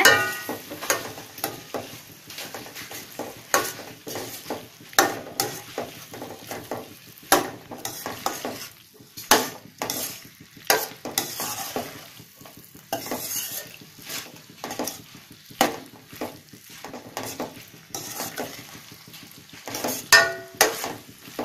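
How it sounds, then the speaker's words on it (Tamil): Macaroni pasta stirred with masala in a pan, a continuous run of spoon scrapes, clinks and light sizzling with frequent sharp metallic knocks against the pan, fairly close and with no voices. "இதை நல்லா மிக்ஸ் பண்ணி விடுங்க"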